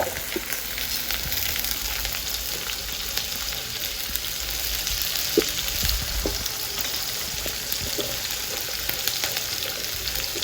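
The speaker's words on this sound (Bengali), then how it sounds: "চুলায় তেল দিয়ে দিয়েছি, আমি হচ্ছে এখন এটাকে ভাজি করে নিব" Vegetables frying in oil on a stove, a loud continuous sizzle with occasional stirring knocks, close and steady with no talking.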